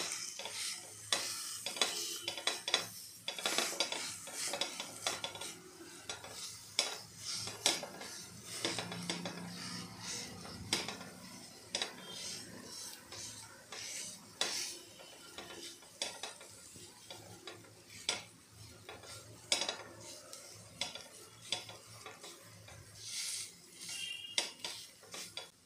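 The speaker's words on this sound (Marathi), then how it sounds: "मटार आहे ते थोडेसे आपल्याला मॅश करून घ्यायचे आहेत।" Cooked peas being mashed in a pan, with steady scraping, stirring and utensil clatter against the pan over a soft sizzle, close and continuous with no talk.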